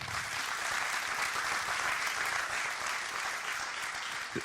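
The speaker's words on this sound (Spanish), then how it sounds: "Denle un fuerte aplauso al Señor" A church congregation gives strong sustained applause during a conference service, steady dense clapping at even loudness throughout, with no voices rising above it.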